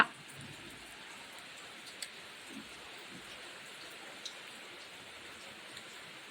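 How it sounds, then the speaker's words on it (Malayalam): Heavy rain falls steadily in a continuous dense hiss, with a few louder drop taps now and then; no voices. "ഭയങ്കര മഴ"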